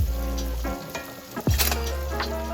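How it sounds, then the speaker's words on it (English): Sausage sizzles steadily in a skillet as it fries until crispy, a dense continuous crackle with a few louder spits and a brief stirring scrape partway through. "I like the sausage to get nice and crispy"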